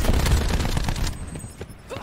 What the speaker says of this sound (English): Sniper firing.